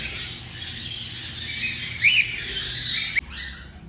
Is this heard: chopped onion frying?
no